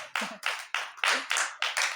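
A church congregation claps for the Lord during a French-language Bible class, with several bursts of hand claps in quick rhythm, fairly close and lively, without talk over them.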